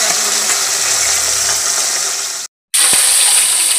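Dhela fish frying in hot oil in a wok, a loud, steady, broadband sizzle that cuts out briefly near the end and then resumes.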